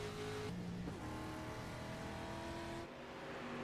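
Tube-frame race cars at Laguna Seca brake hard into turn six, a faint, steady engine drone whose pitch drops as they slow, heard from a distance.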